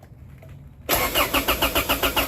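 A car engine cranks after a starter wire harness repair. After a near-silent pause it cranks abruptly and loudly in a fast, rhythmic chug of repeated pulses, heard up close with no talk over it.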